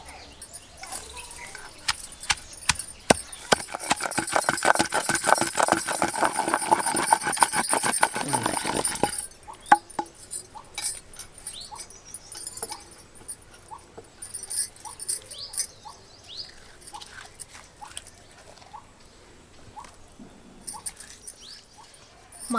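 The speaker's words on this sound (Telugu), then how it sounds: "ఇట్లా కొంచెం పచ్చిమిర్చి దంగిన తర్వాత ఈ కొత్తిమీరాకు కూడా దీంట్లోనే వేసి దంచుకుందాం" Green chillies and coriander are pounded in a mortar for a green chicken masala, a dense run of sharp rhythmic knocks in the first half, then sparser, quieter taps, with some voice in the background.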